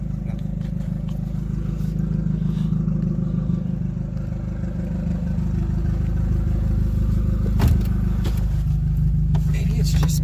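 A turbocharged Honda Civic EG runs steadily up close, its engine drone and low rumble continuous throughout, with a brief clatter near the end.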